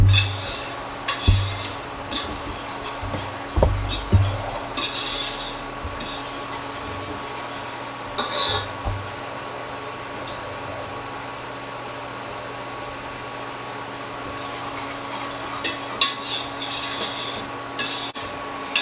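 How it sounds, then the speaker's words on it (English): A spoon scrapes and rubs around a pot, stirring a flour paste over lowered heat, in irregular bursts of scraping with quieter gaps, close and moderately loud. "Just keep stirring it around."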